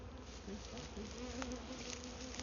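A honeybee swarm packed into a full hive hums in a dense, steady buzz up close, individual bees droning in and out over the constant drone.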